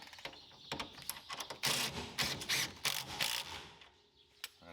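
An impact wrench rattles in several short, harsh bursts while fastening the axle hub nut on a Polaris Ranger 1000, with mechanical clicks and handling noises between the bursts.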